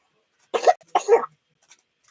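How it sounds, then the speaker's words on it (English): A person coughs twice in a quiet room, two short, close, harsh bursts in quick succession, followed by a couple of faint small sounds. "Yeah, bad cough."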